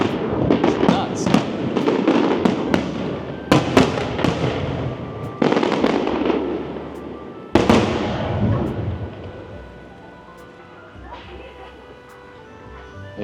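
Fireworks bursting at night over Sunset Town on Phu Quoc, a loud volley of sharp cracks and booming blasts in rapid clusters over the first eight seconds, then fading to softer distant pops with faint crowd noise.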